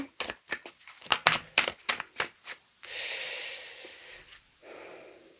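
Quick run of crisp slaps and snaps as a tarot deck is cut and cards are drawn, about a dozen close sharp flicks, followed by a longer soft shuffling hiss.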